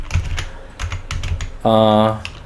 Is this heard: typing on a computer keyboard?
yes